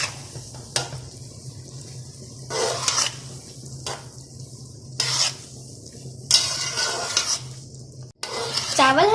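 Zarda rice mixture with basmati rice is stirred in a pot, giving several bursts of loud scraping and clinking strokes separated by quieter pauses, set over a low steady hum and faint sizzle, close by.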